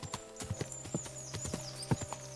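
A ridden horse's hooves clip-clop in an even gait in Kingdom Come: Deliverance II, roughly eight close, clear strikes over a soft ambient bed, with no voices.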